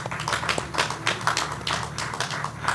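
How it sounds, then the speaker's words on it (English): Audience applause in a hall at an aviation week event in Nigeria, a steady patter of fairly sparse, close claps from a modest crowd. "A warm round of applause for them."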